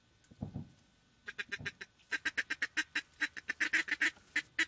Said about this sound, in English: Live ducks swimming in the decoys.